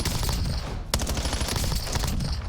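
Dense, loud bursts of gunfire from a Warzone BO7 match using the Sucker Punch audio mix, rapid overlapping shots with a sharp crack near the middle, dense and close with no talk.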